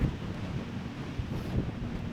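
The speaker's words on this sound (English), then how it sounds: "It's pretty windy right here." Steady, blustery wind buffets the microphone in a continuous low rumble in Glacier Gorge, Rocky Mountain National Park, with a few stronger gusts swelling midway and near the end.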